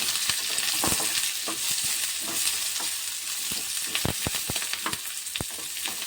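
Two medium onions fry in hot oil for a fresh green pea kurma, a close, steady sizzle punctuated by repeated quick knocks and scrapes of a ladle against the pan.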